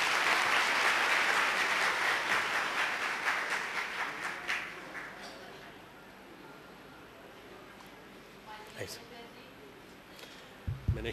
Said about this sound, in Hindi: सब लोग ताली बजा के उनका स्वागत करें।